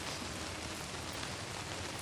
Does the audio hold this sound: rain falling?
yes